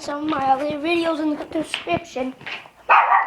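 A person talks for most of the time, and a dog barks loudly once near the end.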